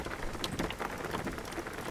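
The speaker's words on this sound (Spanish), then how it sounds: "cómo se escucha la lluvia" Steady rain hisses in the video game Jalopy, a dense, even patter of drops filling the whole stretch with no voices.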